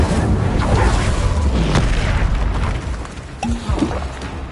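Booming fire-spell blasts from Hogwarts Legacy's Confringo and Incendio, loud and dense, with several heavy bursts rolling together over a rumbling low end and no voices.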